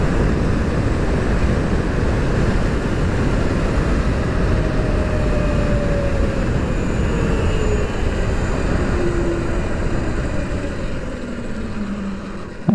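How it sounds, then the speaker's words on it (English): An electric motorcycle with a 96V hub motor runs at full throttle toward 80 mph, giving a steady loud broadband roar of wind and road noise with faint rising whine tones throughout, no talk. "Running full throttle now all the way up to the past 80 miles an hour."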